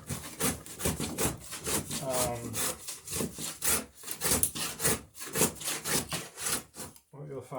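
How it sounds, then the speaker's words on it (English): A pine plank for a New England-style racing dory is bevelled by hand, heard up close as a steady run of quick rasping wooden strokes that stops near the end. "I know I've got a fairly smooth bevel that I'm cutting there"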